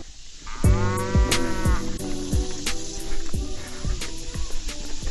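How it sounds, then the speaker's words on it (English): Cattle beside a farm trail let out several short, low moos close by during a mountain bike ride, with a steady rumble of outdoor and riding noise underneath. "That cow's pooping."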